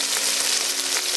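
Chicken roasting in a karahi, a dense, loud, continuous frying sizzle with a steady hiss throughout and no voices.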